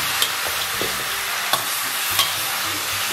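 Oxtail stir-fries in a wok with soybean paste and fermented bean curd, a loud continuous sizzle broken by a few sharp spatula clacks against the metal.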